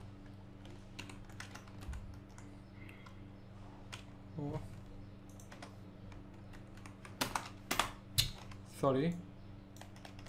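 Keys clatter on a computer keyboard while Java loop code is typed, a steady patter of soft clicks with a burst of louder, quicker taps near the end, and someone speaks briefly over it.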